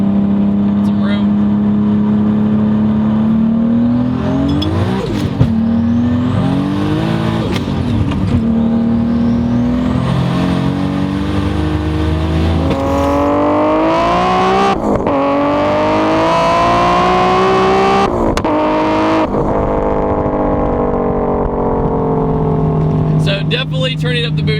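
Turbocharged Toyota Supra making around 900 horsepower at 28 psi of boost, engine revving and accelerating through several gears, pitch climbing then dropping at each shift, loud and close from inside the car.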